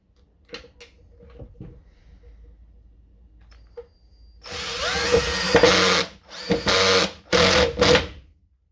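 Cordless power drill driving screws to fix Stealthmounts tool mounts, a few quiet clicks and handling knocks first, then several loud whirring bursts of the drill starting and stopping.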